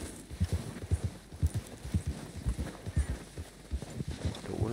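Horse hooves clip-clop in a steady rhythmic gait while riding in Red Dead Redemption 2, close and clear and heard mostly on their own.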